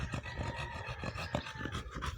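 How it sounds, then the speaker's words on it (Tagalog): A heavy-set dog pants hard and fast after a walk, a close, rhythmic run of rough breaths with occasional low throaty bursts and no talking. "Oh, grabe na mo hingal."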